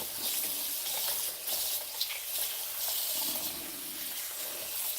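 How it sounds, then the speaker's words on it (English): Tap water runs steadily into a kitchen sink as fresh celery stalks are rinsed and scrubbed, a broad continuous splashing hiss with small surges and spatters, close by and without talk. "take time to wash your celery, don't rush"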